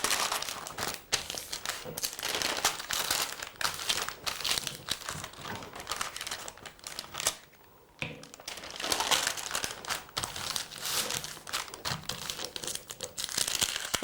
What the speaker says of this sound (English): All you need to do is wrap your card in an old sheet of brown paper.